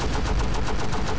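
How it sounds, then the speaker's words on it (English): Rapid, loud gunfire from the video game Team Fortress 2 pounds in a fast continuous volley, like a heavy minigun, with no talk over it. "I'm shooting him straight on, bro."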